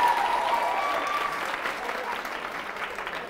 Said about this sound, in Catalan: Molt bé, un aplaudiment.